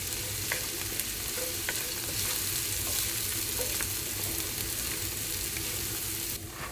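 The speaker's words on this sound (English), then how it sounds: "I just cut up some carrots really thinly, so we can get those cooking in there, sauteing up." Thinly cut carrots saute in a hot pan, giving a steady, close sizzle and frying hiss with a few light stirring scrapes throughout, and no talking.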